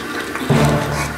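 A toilet flushed by a bulldog: a sudden loud rush of water kicks in about halfway through and keeps roaring steadily to the end, close by with no talking.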